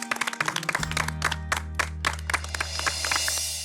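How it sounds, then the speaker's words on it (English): A small group on a cooking competition set claps in a brief, uneven burst of sharp hand claps over a steady low hum, the clapping thinning out toward the end. "I think that calls for a round of applause"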